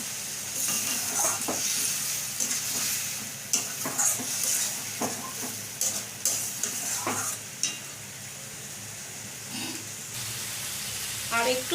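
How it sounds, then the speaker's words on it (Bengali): Spice masala for fish roe fritters sautéed in a pan, a steady sizzle broken by repeated spatula scrapes and stirring clatter, close and moderately loud. "ভালো করে কষিয়ে নেব মশলাটা"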